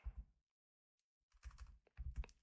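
Typing on a computer keyboard while entering a tag in Revit software: two short, close bursts of quiet key clicks separated by a pause.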